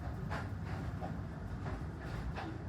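Faiz Passenger train running on the line near Shahdara outer, with steady wheel rumble and faint rhythmic clicks of rail joints heard from inside the carriage.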